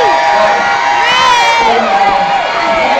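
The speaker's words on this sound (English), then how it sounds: "Scream!" Children scream loudly and continuously at a holiday-camp ABBA party, a dense, shrill crowd of young voices rising and falling in pitch over steady background noise.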